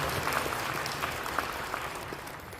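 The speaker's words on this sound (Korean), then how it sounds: "다시 한번 축하 박수 해주시면 감사합니다" Congregation at a church general assembly applauds, a brief burst of steady hand clapping from a crowd indoors, moderately faint and even, with no speech over it.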